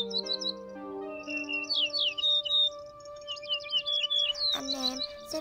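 Migratory field birds, golden sparrow and leafbird flock calls, singing in bright clear chirps and warbling phrases, repeated in quick bursts close by with a steady tonal hum underneath and a sharper squawky burst near the end.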